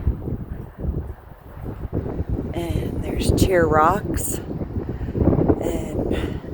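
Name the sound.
strong wind on a mountain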